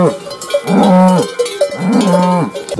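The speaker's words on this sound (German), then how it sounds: "weisen die Kühe uns den Weg?" Cows with cowbells in Austria give two loud, close moos, one after the other, with bells clanking around them.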